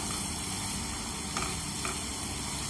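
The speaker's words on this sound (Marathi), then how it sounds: "जर तुम्हाला आलं लसणाची पेस्ट कांद्याच्या अगोदर जर परतायची असेल तरी तुम्ही परतू शकता" Ginger garlic paste sautés with onion in a pan, a dense continuous sizzle with a couple of faint stirring scrapes, steady and close throughout.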